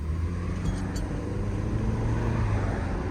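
A rebuilt 2022 Ford Explorer cruises along a main road, steady low engine and tyre rumble close by with a constant wash of road noise and no pauses.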